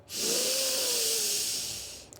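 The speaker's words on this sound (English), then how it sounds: "I start pressure breathing. Take a deep inhale." A long, deep inhale during a pressure-breathing exercise in a morning back-stretching routine, heard as a steady, loud airy hiss that swells and fades over about two seconds.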